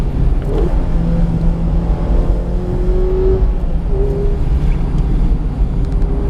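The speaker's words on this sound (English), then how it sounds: "how high you have to rev the engine even in normal everyday situations" A 2016 Mazda MX-5 Miata ND driven on a tight, winding downhill road, its engine droning and revving steadily from inside the cabin with rising and falling pitch over constant road noise.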